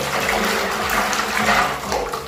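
Water is poured back while cleaning a window-type aircon filter, a close steady splashing gush with faint gurgles and no talk.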